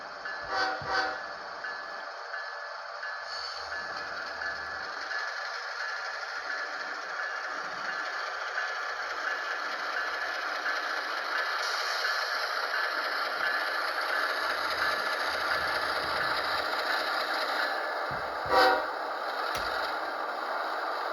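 An Athearn Genesis NS ES40DC model locomotive runs with its sound system on: a steady diesel engine drone throughout, with short horn blasts near the start and near the end, and no talking.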